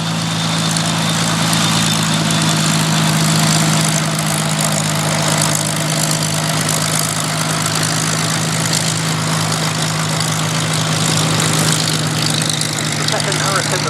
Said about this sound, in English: Chris Duggan landing Hurricane 501's Hurricane.